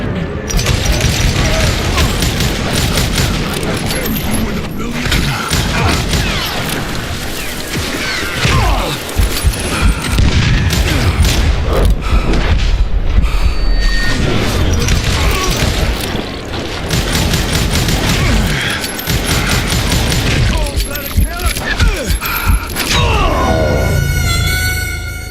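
Call of Juarez: Gunslinger gunfire rattles in loud, dense volleys of sharp cracks and clattering impacts, almost continuous over busy game noise.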